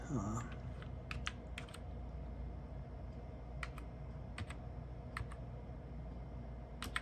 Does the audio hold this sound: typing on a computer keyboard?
yes